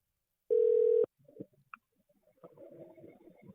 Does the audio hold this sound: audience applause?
no